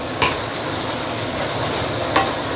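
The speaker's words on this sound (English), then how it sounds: "Okay, now you can mix everything together." Rice noodles and egg for char kuay teow being stir-fried in a hot pan, a steady sizzle with two sharp scraping strokes of the spatula, close and loud with no talking.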